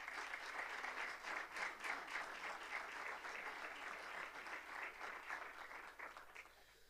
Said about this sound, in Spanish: un fuerte aplauso para todas ellas que nos acompañan a lo largo del día de hoy